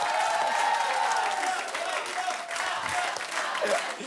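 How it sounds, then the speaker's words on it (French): A studio audience applauds on a French television talk show, a broad wash of clapping under a faint tone and light crowd murmur, steady for several seconds. "Bravo, on peut l'applaudir"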